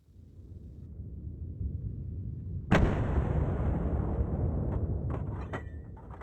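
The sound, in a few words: gunshots from wild boar hunting rifles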